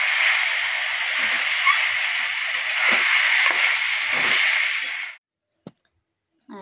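Chicken legs sautéing in oil in a pan give a steady, loud sizzle and crackle with occasional stirring scrapes, which stops abruptly near the end and leaves a few faint clicks.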